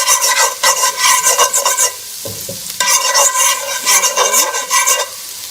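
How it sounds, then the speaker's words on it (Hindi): Chopped garlic and ginger frying in a pan for chicken chow mein, loud crackling sizzle with rhythmic spatula scraping and stirring, briefly dropping away midway before resuming, no speech. "ये आपका गार्लिक जिंजर हो गया, इसको आप फ्राई कर लीजिए"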